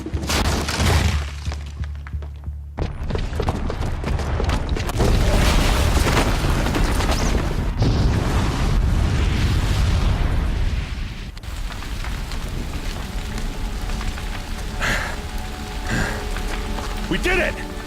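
A bomb explosion in the Horizon Zero Dawn video game, a loud booming blast followed by sustained rumbling, crackling debris and shattering noise that fills the scene.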